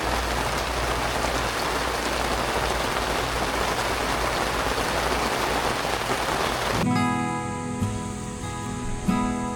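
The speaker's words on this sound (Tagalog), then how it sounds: "Biglang buhos ng ulan." Sudden heavy rain pours down steadily and loudly, a dense continuous hiss of drops drumming on surfaces, then shifts abruptly to a quieter, more tonal backdrop near the end.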